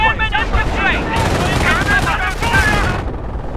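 Battle gunfire from Company of Heroes, 1944 Operation Bluecoat, with dense rapid bursts of shots running loud and close throughout, mixed with shouted voices.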